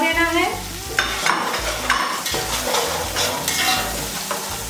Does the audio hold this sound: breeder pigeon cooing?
no